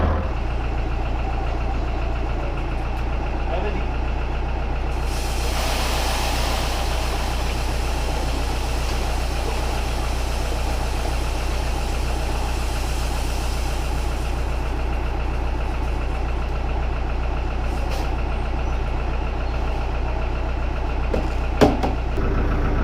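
A farm tractor engine idles steadily during fertilizer spreading work, a continuous low rumble with a brief brighter surge partway through and a faint knock near the end, with no voices.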